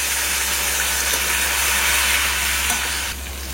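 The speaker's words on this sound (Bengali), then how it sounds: "এবারে এটা দিয়ে দিলাম, টমেটো" Chopped tomato sizzles hard in hot oil in a pan: a loud, dense, steady frying hiss with crackles, close up, with no talking.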